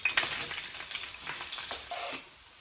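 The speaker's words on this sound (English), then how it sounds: "we're gonna take our onions, just the diced ones, and just scrape them into that hot pan" Diced onions sizzle steadily in a hot pan, a close, continuous crackling fry with a few brighter pops, no talking over it.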